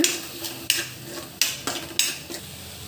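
Tomato puree and onion being sautéed in a pan, with sharp clinks and scrapes of a spoon against the pan at a steady pace over a low sizzle, close up and without voices.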